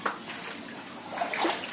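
Floodwater flowing into a house in Vijayawada, heard as a steady wash of rushing, splashing water at moderate level with a few brighter sloshes, no voices.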